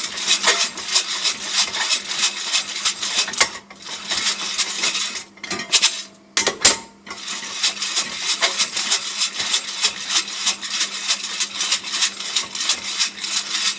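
Coffee beans tumble inside an FZRR700 baby roaster over a gas stove indoors, a dense continuous rattling hiss that briefly breaks and stutters midway before resuming steadily.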